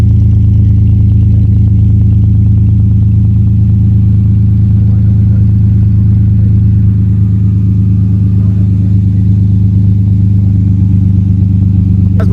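A 2015 Chevrolet Silverado truck with a $17 cat-back exhaust runs loud and steady with a deep low rumble, revving lightly throughout without any speech.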